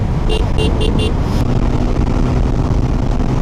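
Honda CBR motorcycle speeding along Marine Drive road near Cox's Bazar and Teknaf, a loud steady engine drone mixed with heavy wind rush, with a few quick high beeps near the start.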